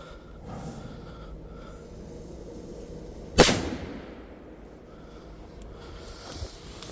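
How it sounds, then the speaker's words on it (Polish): A single sharp bang from a Muerte green firecracker, close and loud, with a quick ringing decay, set against quiet outdoor background noise before and after. "Petarda Muerte zielona."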